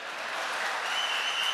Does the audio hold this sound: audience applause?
yes